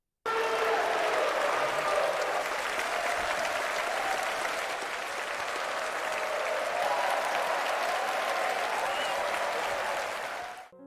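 A concert hall audience applauds a piano performance in a film, sustained, dense clapping from a large crowd that stays loud and even for around ten seconds before cutting off.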